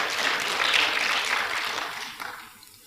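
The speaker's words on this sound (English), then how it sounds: "Let's give them a round of applause." A conference audience at the CCMA Annual Labour Conference 2022 gives a round of applause, a steady wash of many hands clapping that gradually fades away.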